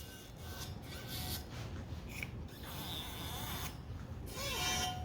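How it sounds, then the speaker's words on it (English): Engine valves being lapped on a DAZA cylinder head, with repeated rubbing and rasping strokes of the valve grinding against its seat, close and quiet, in an irregular back-and-forth rhythm and no talk. "Now, I lap the valves."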